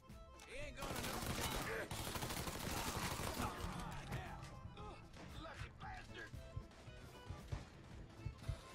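Gunfire in the Mafia 3 video game at a theme park, a dense burst of heavy, cracking shots with crashing impacts that stays loud for several seconds and then thins into scattered reports.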